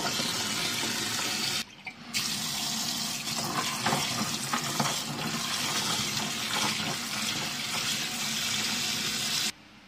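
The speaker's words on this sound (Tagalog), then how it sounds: "Hugasan natin ang peanuts. Hugasan din natin ang walnuts." Tap water gushes steadily into a sink while peanuts and walnuts are rinsed, a loud continuous splash that cuts out briefly once near the start and stops again at the end.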